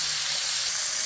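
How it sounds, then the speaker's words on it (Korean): Washed chili peppers stir-frying in a pan until golden make a dense, continuous sizzle and hiss that stays loud and close throughout. "고추 볶는 소리가 맛있는 소리가 나죠."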